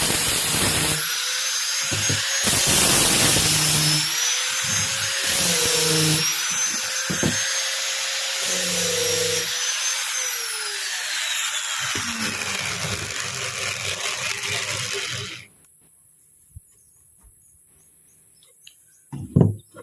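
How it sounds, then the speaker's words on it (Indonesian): An angle grinder runs continuously against the edge of a plywood drawer, smoothing it before laminate is applied: a loud, steady whine with varying pitch as it bites the wood, cutting off abruptly near the end, then near silence. "alangkah bagusnya kalau kita haluskan dulu dengan gurinda"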